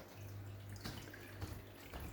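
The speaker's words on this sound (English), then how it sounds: "we've put a bubbler in there as well" Steady water flow and bubbling from a bubbler in a planted aquarium set up as a fast-flowing river scene, a continuous close wash with a few brief splashy bursts.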